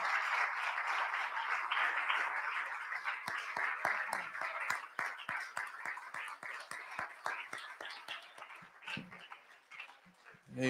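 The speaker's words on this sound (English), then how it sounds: "And let the church, as you're clapping your hands," A church congregation claps during a Sunday morning worship service. The applause starts as a dense, steady roar, then thins into distinct, rhythmic hand claps that carry on throughout.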